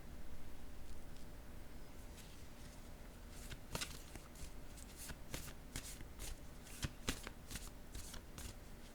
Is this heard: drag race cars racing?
no